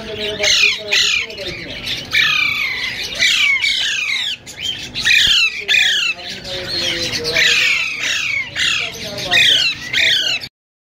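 Ring-necked parakeets at a Sunday bird market in Bahawalpur squawk loudly and persistently, their harsh calls overlapping in a steady, nearby chorus with only a short lull before the shrieking resumes.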